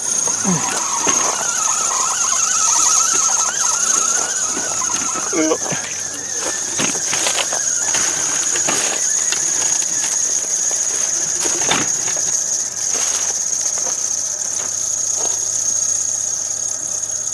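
A steady high-pitched mechanical squeal whines continuously from a dry-geared RV slide-out motor, with rattling and clunking underneath and people talking over it.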